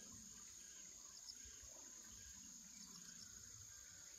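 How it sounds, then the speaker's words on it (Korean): Steady, soft flowing water of a valley stream in a garden runs continuously with no voices, under a constant thin high-pitched whine like insects. "물 흐르는 소리."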